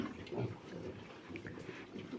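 Pigs grunt softly close by, short low snorts scattered over a quiet barn background.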